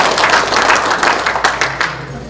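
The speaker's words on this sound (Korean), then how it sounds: "박수 많이 쳐주시길 부탁드리겠습니다" Audience applause at a voters' speech and resolution event, a brisk burst of many hands clapping close and loud, thinning slightly toward the end.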